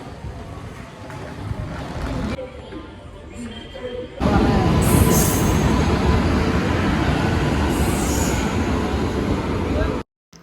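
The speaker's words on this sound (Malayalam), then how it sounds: "അങ്ങനെ കുറേ നേരത്തെ പോസ്റ്റിന് ശേഷം ഞങ്ങൾ ട്രെയിനിൽ കയറി." A passenger train boarded at Aluva railway station in Kerala rolls along its rails, a steady broad rumble that jumps louder midway through and holds until it cuts off abruptly near the end.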